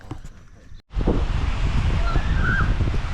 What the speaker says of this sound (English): Now it's got the wind's picked up a little bit.